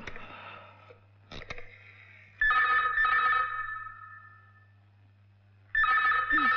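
A telephone in a Hindi film scene rings loudly in two bursts, a long shrill ring and then another starting, with a quiet room and a faint hum between the rings.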